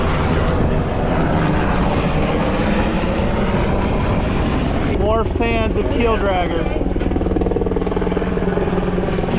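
A constant loud helicopter rotor-and-engine drone fills the air overhead near a sailboat off Catalina Island, with someone speaking briefly over the steady roar.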